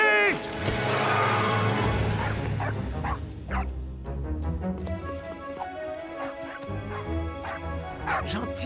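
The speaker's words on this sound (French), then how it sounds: "Gentil, le chien." A cartoon dog yips and whimpers in short repeated bursts among busy background music and effects, with voices talking over parts of it in an animated football show.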